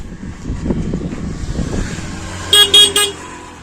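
A motorbike rally in a Shree Ram kalash yatra procession: engines rumble close by, then three loud horn toots sound in quick succession near the end.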